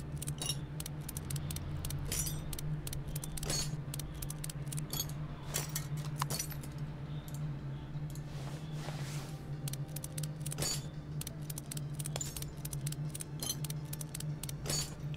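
Parts being removed from a car in Car Mechanic Simulator 2014, a steady run of small metallic clicks and clinks over a constant low engine-like hum, with no talking.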